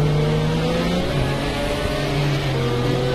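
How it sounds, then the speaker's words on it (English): An Audi R8 in the Project Cars 2 racing game revs hard, a loud, steady high-pitched engine whine rising and shifting through gears, continuous and alone with no talk. "the Audi R8 revs higher on Project Cars 2 than there's on Project Cars 1"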